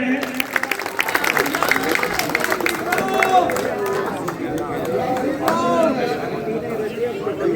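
A crowd at a bhajan competition prize ceremony claps in scattered, uneven bursts, mixed with chatter and a voice carrying over the top.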